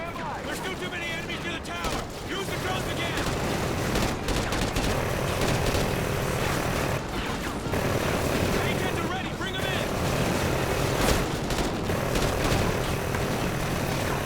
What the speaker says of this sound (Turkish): Yoğun ateş altındayız.